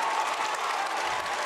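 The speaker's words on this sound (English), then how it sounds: "the crowd getting on their feet now as they are letting the boys know that they have their town's full support" Steady wash of applause and cheering from the crowd at a Franklin high school boys basketball playoff game, a constant dense clatter of clapping throughout with no distinct voices.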